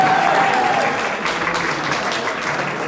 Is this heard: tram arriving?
no